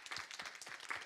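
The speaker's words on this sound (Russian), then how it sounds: "Вы слышите аплодисменты из зала" A conference audience applauds in a hall, a short, faint patter of scattered hand clapping from a modest crowd, heard at a distance.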